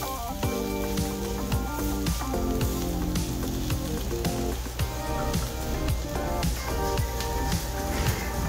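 Butter, peppers and onions sizzle in a pan with a steady, soft crackling hiss, while utensils clink and tap intermittently throughout.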